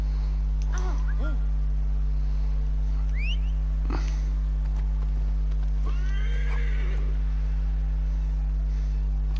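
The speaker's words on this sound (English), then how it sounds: "Oh, I've got to ride that bloody horse" Horse whinnies and snorts in Assassin's Creed Origins, with clip-clopping hooves in a steady game soundscape under a constant low hum; several distinct neighs rise and fall across the scene.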